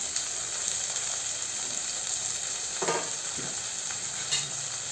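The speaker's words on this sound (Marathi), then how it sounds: "आपण आता तुपामध्ये परतून घेऊया।" Red and yellow bell peppers, peas and mixed vegetables sautéing in ghee, making a steady close sizzle with a few soft stirring scrapes throughout; no talking.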